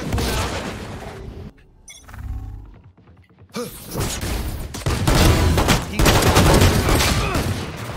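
Gunfire in the tactical shooter Valorant: sharp shots and bursts, loud and close, with a lull mid-clip before dense firing resumes and continues to the end.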